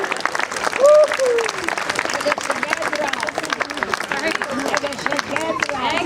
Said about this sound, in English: A huge big round of applause, please, to all of our volunteers